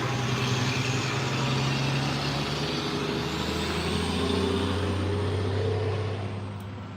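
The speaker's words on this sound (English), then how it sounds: "He's a truck driver, and he always honks his horn and waves at me when I'm sitting out on the porch." A passing truck sounds its horn outside a house: a sustained, fairly faint horn tone rides over a heavy engine rumble that fades slightly toward the end.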